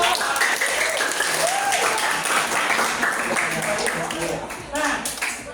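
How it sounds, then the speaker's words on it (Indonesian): Students in a classroom clapping together during a teaching practice lesson, a burst of clustered hand claps close by with some voices talking and calling out underneath. "tepuk tangan dulu."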